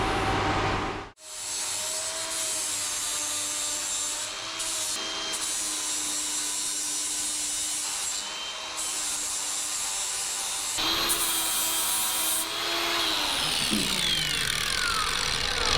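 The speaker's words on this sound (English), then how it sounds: "now we have to grind the seams a little bit down" A power grinder works down weld seams on a fat e-bike frame conversion, a continuous loud whining grind with slight pitch shifts and short dips, close and unbroken.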